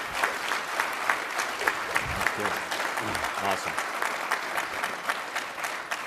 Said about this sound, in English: let's give a round of applause to our Army senior leaders